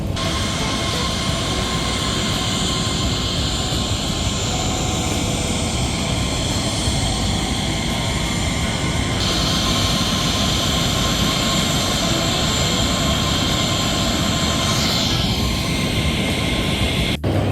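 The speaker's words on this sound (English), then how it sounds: "the Aero Mexico is pushing back" A steady, loud roar of jet engines as an Aeromexico airliner pushes back from the gate, broad and constant, with a faint rising whine near the end.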